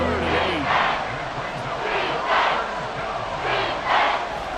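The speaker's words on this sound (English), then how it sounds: "This crowd making it hard to hear." Roaring stadium crowd in the Madden NFL 24 football video game, a steady loud wash of cheering that swells in waves, with muffled commentary underneath.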